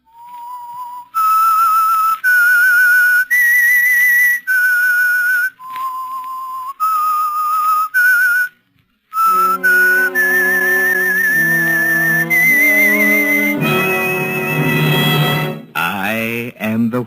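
A clear, loud whistled melody of distinct held notes, the signature of the 1945 radio drama The Whistler, later joined by a low instrumental backing, with brief pauses between phrases.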